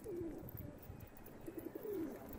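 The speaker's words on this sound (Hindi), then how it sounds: "बहुत ही ज़बरदस्त कबूतर।" Pigeons on a rooftop loft in Quetta, including fancy breeds such as shami and golden shami, coo softly in repeated rolling calls over a steady background hum.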